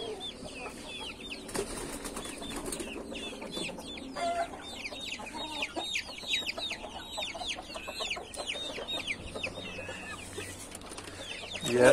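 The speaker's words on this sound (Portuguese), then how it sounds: "essa aqui é a galinha que é a mãe daqueles três pintinhos lá" A backyard hen, mother of three chicks, clucks repeatedly in short rhythmic bursts at moderate distance, with a brief flurry of wing flapping and other farm noise around her.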